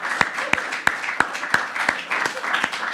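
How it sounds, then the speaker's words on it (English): A congregation at a church service applauds, with sharp, distinct claps standing out at a steady rhythm above a softer background of clapping throughout. "So let's just give a round of applause to everyone who was celebrating the anniversary this week."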